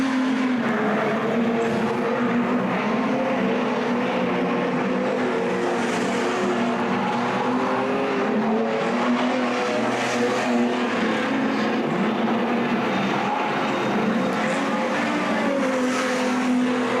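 Street stock race cars roar around a track during a state title practice session, their engines droning steadily and loudly with shifting pitch as they pass, with no talk heard.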